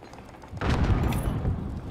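A frag grenade detonates in Warzone, a single heavy boom bursting in after a quiet half-second and leaving a loud rumbling tail that fills the rest of the moment.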